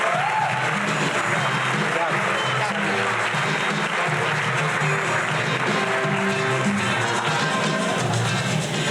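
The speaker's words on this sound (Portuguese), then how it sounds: "Aplausos para Gisela!" An audience at a literary festival evening applauds psychologist Gisela Monteiro with dense, sustained clapping that fills the whole stretch at steady loudness, with a faint crowd murmur beneath.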